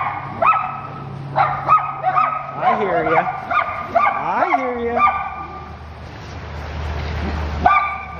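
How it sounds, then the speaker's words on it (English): Small dachshunds bark and yip repeatedly on a walk through Salish Ponds Park in Fairview, Oregon, several sharp close barks with whimpering between them, while a person talks nearby. "Cute wiener dogs."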